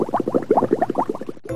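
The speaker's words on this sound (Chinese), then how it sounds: "这个其实呢是水烧开了之后那个泡泡的声音" Bubbles rising and popping in water brought to a boil: a quick, irregular run of close, rounded gurgles and plops for about a second and a half, heard alone.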